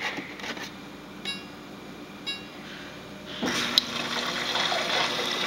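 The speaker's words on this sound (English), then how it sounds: "your water flow has been restored." Water from a refrigerator's water dispenser flows quietly after a filter repair restores the flow, starting faint and becoming a steadier, louder stream toward the end, with a few small clicks before it.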